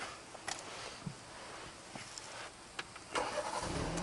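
A 2019 BMW G20 330i starts up after a few faint interior clicks, with the engine catching in a short loud burst and then settling, heard from close by.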